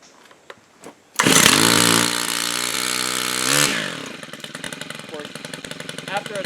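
A STIHL FS130R string trimmer's four-stroke engine catches after a couple of soft pulls and roars up loud to high idle, then drops to a lower, steady sputtering idle; nearby clicks and handling noises come before it fires.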